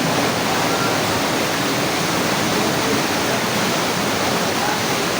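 Duyom Falls in San Agustin, Romblon pours as a loud, constant broadband rush of falling water, filling the whole stretch without a break.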